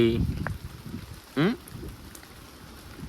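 Steady monsoon rain hisses in the background in a village, with a short voice and a brief rising squeal breaking through near the start and middle.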